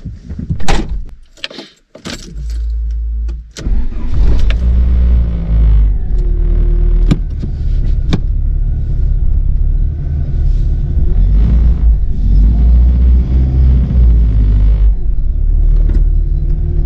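A Volkswagen Corrado G60 sets off on a test drive, its engine rumbling low and steady after a few door and key clunks at the start, then holding a continuous road drone.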